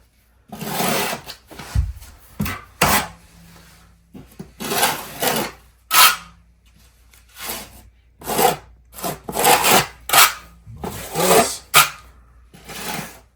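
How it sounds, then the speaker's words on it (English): A 6-inch putty knife spreads and presses thinset into the corner of a shower with a linear drain, making repeated close, gritty scraping strokes in uneven bursts separated by short pauses. "6-inch putty knife. Fix that corner. Make sure it's nice and tight."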